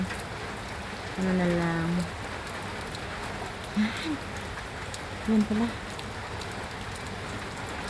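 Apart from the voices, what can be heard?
rain falling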